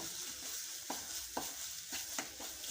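Soft, continuous sizzling of a tempering in hot oil for raw mango chutney, with a few light stirring scrapes, quiet and close, no voices.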